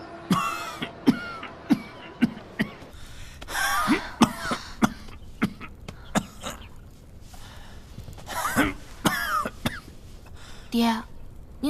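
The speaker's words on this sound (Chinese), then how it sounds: "您怎么又咳嗽了？" A man coughs up close, in a series of sharp, repeated bursts that come in uneven clusters, with quieter rustling and movement between them.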